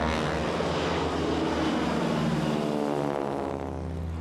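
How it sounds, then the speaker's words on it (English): A North American Harvard trainer's radial engine roars loud and close as the aircraft takes off, a steady droning snarl with a pulsing propeller buzz that shifts pitch slightly as it pulls away. "distinctive sound of the Harvard aircraft as it takes off"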